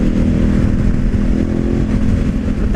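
A KTM 1190 motorcycle runs hard at high speed in fourth gear, its engine a loud, steady, close drone with wind rush over it and no talking.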